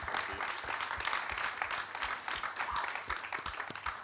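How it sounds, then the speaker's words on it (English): A conference audience at a COP26 panel on greener cities gives a round of applause, lively uneven clapping with sharp individual claps standing out, sustained for several seconds at moderate distance. "I think we should give a massive round of applause to them as well."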